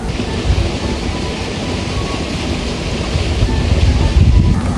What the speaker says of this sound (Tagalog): Si Papa po pala ay nagpapalabas po ng tubig dito sa prinsa